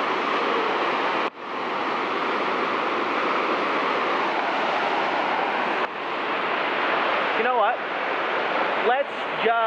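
A waterfall at Seven Falls roars as a loud, steady broadband rush close by, continuous throughout with brief interruptions, and a voice briefly speaks over it near the end.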